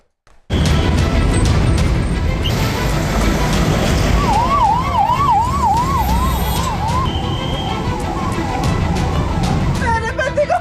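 An ambulance siren wails in a rising and falling pattern and echoes through the aftermath of the Pahalgam terror attack, over constant loud crowd commotion and a revving vehicle.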